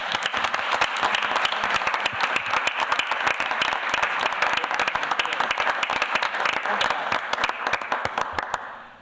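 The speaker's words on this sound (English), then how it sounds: "All right, let's give them a nice round of applause." At a school board meeting, a room of attendees claps for student athletes, a dense, sharp patter of many hands that is loud and continuous for about nine seconds before tapering at the end.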